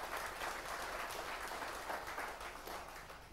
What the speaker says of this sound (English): Let's give them a big clap.